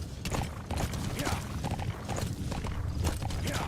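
Steady clip-clop of video game horse hooves at a trotting pace, close and continuous, with a faint ambient bed and no talking.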